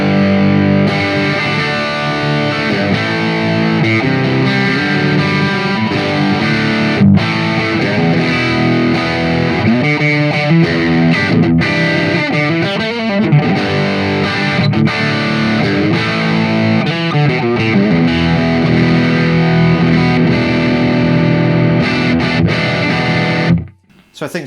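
Distorted electric guitar played through a Kemper profiler into a Celestion F12-X200 1x12 FRFR speaker, loud and continuous with chords and riffs for the whole stretch, cutting off abruptly at the end.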